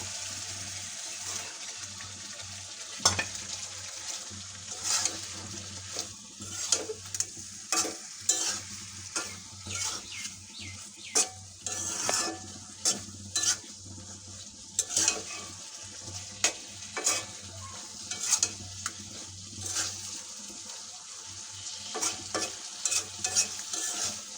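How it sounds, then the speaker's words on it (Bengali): Green beans sautéing with spices in a pan give a steady, close sizzle and frying hiss, with repeated scraping and stirring clatter throughout and no talk. "সিমগুলো একটু হালকা কষানো শেষ"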